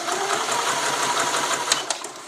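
An Elna 20 sewing machine stitching, a steady fast mechanical whir with rapid rhythmic needle ticking at close range, easing slightly toward the end.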